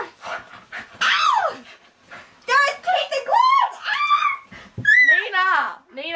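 A puppy pants and whines in quick, excited bursts, close by and fairly loud, mixed with a high-pitched voice and short yelps.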